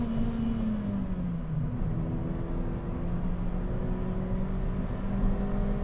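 A Renault Wind 1.6 with 133 hp and an aftermarket green air filter accelerates on the road, its engine drone steady and loud with the pitch climbing gradually.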